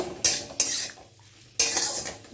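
A utensil stirs spring onions in a pan of simmering fish curry, making three bursts of scraping, clinking metal separated by quiet gaps, close and moderately loud with no talking.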